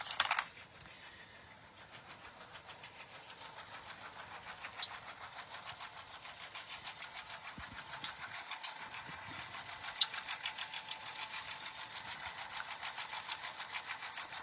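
An embroidery machine stitches an applique outline on a notebook cover, a steady rapid mechanical chatter of needle strokes running throughout at moderate level with no talking.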